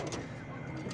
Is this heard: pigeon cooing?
yes